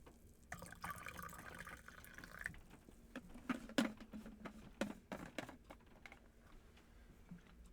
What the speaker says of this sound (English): I'm going to pour myself a nice cup of tea.